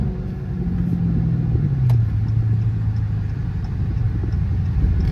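A Chrysler 300C with a Hemi V8 pulls hard under acceleration, a deep, loud engine rumble whose pitch drops at a gear change near the middle, heard from inside the car with no talking.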